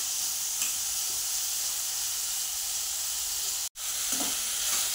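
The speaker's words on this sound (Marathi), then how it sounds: "मध्यम आचेवर आपण कांदा भाजून घ्यायचा आहे बघा।" Onions frying in oil over medium heat for paneer bhurji give a steady, dense sizzle that stays even throughout, broken only by a brief dropout near the end, with no talking.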